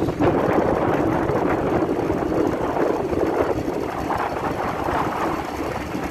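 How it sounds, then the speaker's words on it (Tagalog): A cold morning breeze buffets the microphone on a road, making a continuous rough, rushing roar that stays loud and close for the whole stretch, with no speech. "malamig ang simoy ng hangin sa umaga"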